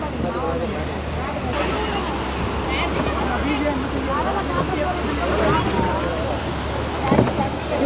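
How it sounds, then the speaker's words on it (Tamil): Strong, steady wind buffets the microphone beside the sea on a fishing boat carrying Goa anchovies, a constant low rumble of gusts and wave wash under distant voices and boat noise, with a sharp knock near the end. "காற்றும் பயங்கர உரமாக அடிச்சுக்கிட்டே இருக்குங்க."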